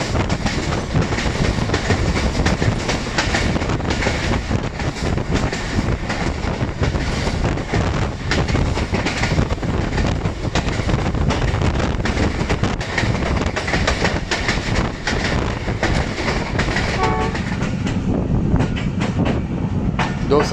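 A passenger train running from Lahore to Narowal rumbles steadily on the rails with continuous clickety-clack and wind buffeting, heard from onboard, loud and unbroken throughout.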